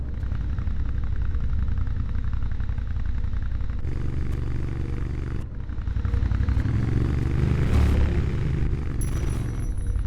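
Motorcycle riding in the video game Lara Croft Tomb Raider: Underworld: a steady, continuous engine drone with clattering and scraping runs throughout, briefly shifting tone midway, with no talk.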